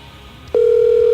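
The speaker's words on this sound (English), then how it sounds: "Oh, it's ringing." A phone line starts sounding with a single steady electronic tone that begins abruptly and holds loud and unbroken.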